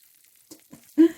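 Chicken alfredo lasagna bubbling in a pan, with soft noodles: faint scattered pops and a soft sizzle that ends in a louder, brief burst of bubbling close by.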